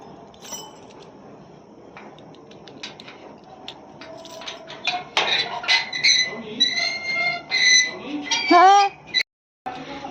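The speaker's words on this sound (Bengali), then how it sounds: "আর এই যে তালা দিচ্ছি" Metal gates being padlocked, with jangling keys, clinks and scraping of the lock and chain building up over several seconds, close and fairly loud, along with some speech.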